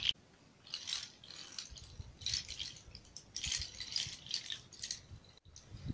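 A handmade rattle built from a fox skull and animal bones and hooves shakes in a quiet room. It gives soft, dry clattering bursts in an uneven rhythm, faint and close.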